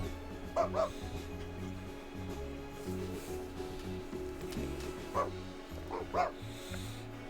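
A dog gives a few short, yipping barks, spaced apart and moderately loud, over a steady background of music or ambient sound.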